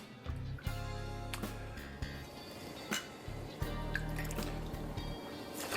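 Whiskey being poured for a cocktail, a steady trickling pour that stops and then starts again, close and clear with no talking over it.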